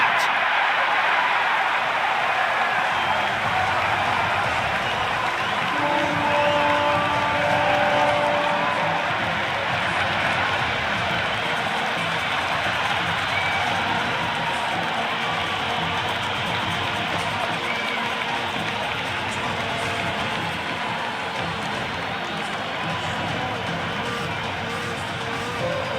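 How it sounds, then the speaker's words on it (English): A packed cricket stadium crowd at an India vs New Zealand T20 final roars in a steady, dense wall of cheering that holds for the whole stretch, with voices faintly mixed in. "It's evident and ever so audible that the crowd is at near bursting point at today's play."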